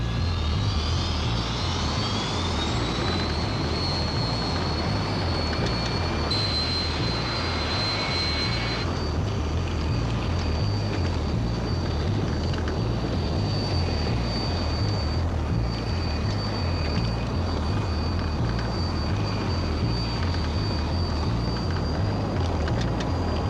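Airplane of Flight 90 taking off in a 1984 film about the Potomac crash, a steady loud engine roar with a high whine building and holding throughout, no voices.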